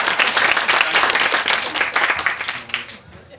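An audience claps for a hard juggling trick, a dense burst of applause that holds steady and then thins out toward the end, with a voice talking over it.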